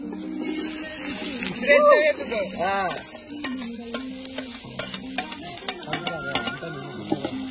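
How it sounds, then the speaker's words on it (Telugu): Onions frying in a pan for chicken curry at a picnic cookout, a close sizzle with scraping stirs and ladle clicks, while a person talks over it in the first half. "ఇప్పుడు ఫ్రై అయినాక ఆనియన్స్ వేస్తాం."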